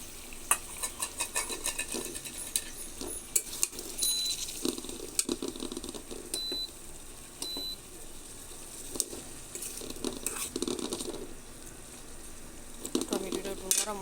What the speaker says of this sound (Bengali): টমেটোটা একটু নরম হোক, সঙ্গে হয়ে গেছে আমার টমেটো কষানো